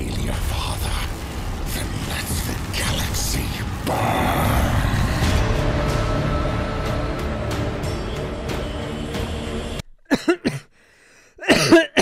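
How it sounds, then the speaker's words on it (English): A person coughs in short, harsh bursts near the end, with a couple of quick coughs separated by brief silence, right after a long stretch of dense, noisy background sound. "Sorry, I was coughing from the coolness."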